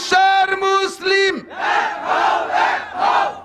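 A large crowd roars a takbir chant in answer, four loud, regular shouted bursts following a lone man's rising call, all close and forceful.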